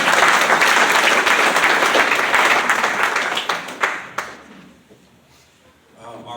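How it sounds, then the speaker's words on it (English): An audience at a hall of fame induction ceremony applauds loudly for the inductees, dense clapping that tapers off over several seconds to a few scattered claps. "let's give it a round of applause for all of our inductees tonight"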